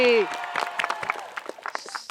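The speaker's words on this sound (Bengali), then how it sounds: "গ্রুপ টু এর জন্য হাততালি" Classroom students clap for a group, a ragged patter of scattered handclaps that starts right after a voice is cut off, uneven and fairly close, thinning out over two seconds.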